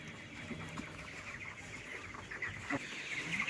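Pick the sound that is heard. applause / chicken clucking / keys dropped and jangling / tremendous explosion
chicken clucking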